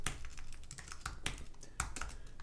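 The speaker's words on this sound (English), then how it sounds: "There's a lot of typing." Quick, irregular clicks of typing on a computer keyboard while coding, close and fairly quiet, with sharper keystrokes standing out every half second or so over a soft background; no talking.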